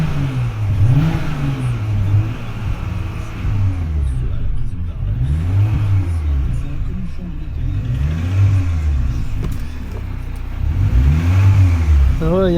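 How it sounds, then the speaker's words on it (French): A Porsche Macan S engine with a connecting rod knock runs close and steady, its note swelling and falling in several repeated waves over a constant mechanical drone. "il y a vraiment un bruit de bielle."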